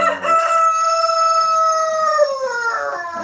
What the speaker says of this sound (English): You guys want to see the rude rooster?